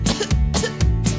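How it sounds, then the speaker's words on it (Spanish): Cartoon cough sound effect in a children's song, three short, evenly spaced cough bursts in quick succession, close and loud. "La mosca tiene tos."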